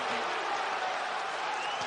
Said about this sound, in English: That's applauding his players.